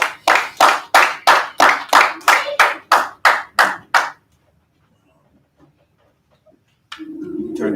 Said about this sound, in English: Give that nigga a clap,